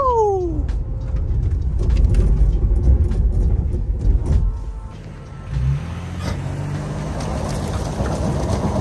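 A 2024 Toyota 4Runner SR5 rolls off-road over rocks and uneven ground, its engine rumbling low and steady with occasional knocks and bumps from the terrain.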